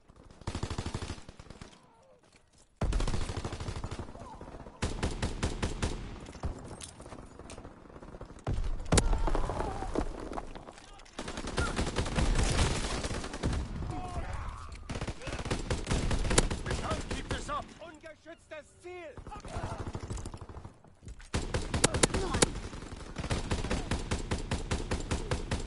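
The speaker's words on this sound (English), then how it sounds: "Keep firing!" Video game gunfire rattles in long bursts of rapid shots, loud and near, with brief pauses between volleys and a few short quiet gaps.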